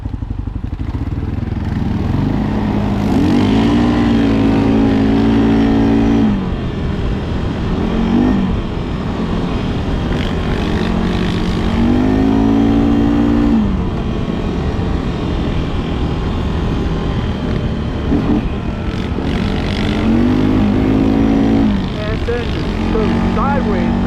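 A 2025 CFmoto CForce 600 ATV fitted with an RNG full clutch kit revs hard in three rising bursts, its engine note climbing and falling between pulls, loud and close with rushing wind noise.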